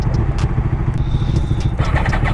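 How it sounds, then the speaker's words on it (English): A Yamaha R1 sport bike fires up from a cold start at a meetup, its engine chattering loudly and close with a rough, crackly idle. "let's get this cold start going on the R1"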